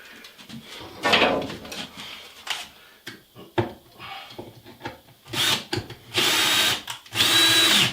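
Mud trowel dragged and scraped across drywall to find protruding nail heads. Uneven bursts of scraping and rubbing, some short and some sustained, close up, with no speech.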